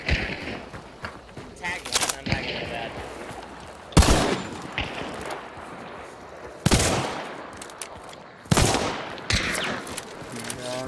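Sharp gunshots from a first-person shooter, Hunt: Showdown, fired indoors in a PvP match. Single loud shots land at irregular intervals, each followed by a short echoing tail, while a player talks over them.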